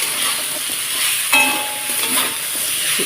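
Drumstick (sajne danta) pieces with turmeric frying in a pan: a steady, close sizzle and hiss with faint stirring scrapes throughout, and no talking.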